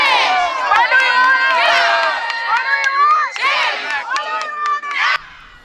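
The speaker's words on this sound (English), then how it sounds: "They took to the campus grounds, waving flags, homemade signs, and starting up political chants" Student protesters on campus grounds during a school walkout, many voices shouting and chanting together in loud, rising bursts, close and energetic, ending abruptly.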